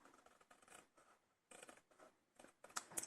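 Scissors trimming paper or card for a handmade gift box for two Ferrero chocolates, a few soft, close snips and scrapes at low volume with no talking.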